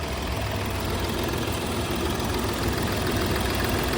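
A 2015 Hyundai Grand i10 Magna diesel engine idling, a steady low clattering hum held close and constant with no voices.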